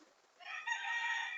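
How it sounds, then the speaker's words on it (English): Faint chicken sounds from a farm flock of several hundred birds, a drawn-out fowl call rising out of quiet and heard at a distance in the background. "Now I hear some chickens in the background."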